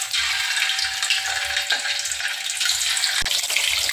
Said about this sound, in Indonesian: Nah, ini minyak sudah panas. Kita akan goreng tahunya.